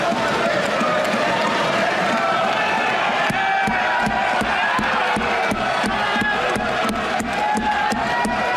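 A large crowd at a political rally claps and cheers for railway employees, a dense, loud, sustained roar with sharp clapping throughout.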